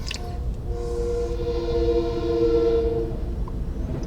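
LIRR M-3 commuter train passing with a loud rumbling roar and a sustained horn-like tone near the middle, fading as it moves off.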